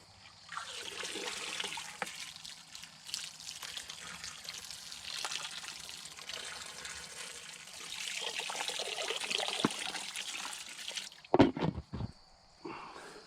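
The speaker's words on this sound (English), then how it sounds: "Gives the ducks some fresh drinking water." Fresh drinking water pours steadily for ducks during evening farm chores, a continuous splashing trickle that runs for about eleven seconds before ending with a few sharp knocks and clunks.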